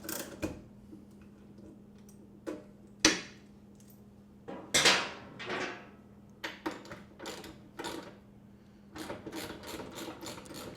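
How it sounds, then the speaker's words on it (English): Ratcheting wrench loosening the rear shock bolt on a 2014 or newer Harley-Davidson, heard as a scatter of short ratchet clicks and metallic taps in quick bursts, close and moderately loud, with pauses between strokes. "we've got these ratcheting wrenches that he's using"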